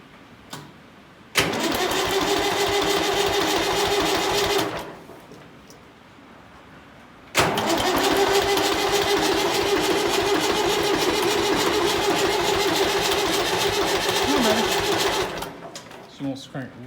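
An engine cranking and trying to start: a loud starter-motor grind runs for about three seconds, stops, then resumes for about eight more seconds without catching, close by.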